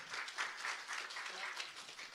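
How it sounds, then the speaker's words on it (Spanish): A church congregation applauds steadily throughout, a dense wash of many hands clapping at moderate level with no pause. "un aplauso para Mari y para Pileggi."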